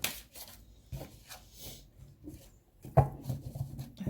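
Tarot cards being shuffled by hand, a run of soft papery riffles and rubs in separate bursts, close and fairly quiet, with no voice.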